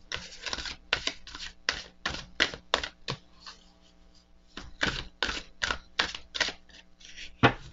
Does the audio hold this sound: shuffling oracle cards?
yes